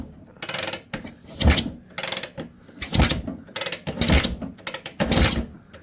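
A 1966 Puch Allstate motorcycle engine with dual spark plugs being turned over by hand, giving rhythmic mechanical ratcheting strokes and compression pulses, about six cycles, close and fairly quiet.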